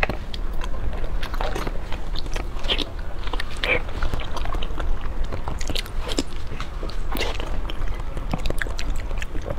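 Close, crisp biting and chewing of frozen ice cookies, with repeated crunchy snaps and grinding chews in an uneven rhythm, loud and alone.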